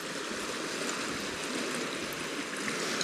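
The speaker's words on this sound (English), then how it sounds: "There's another quicker stream just directly below us here." A fast-flowing stream in Sutherland, a steady broad rushing wash of water, continuous and close, with no voices.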